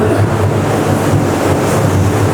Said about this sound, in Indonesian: ruang untuk painting pakai sistem air terjun